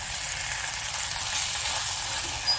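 Onion and garlic paste fries in a pan as a steady, even sizzle, a moderately loud continuous hiss with no talking over it.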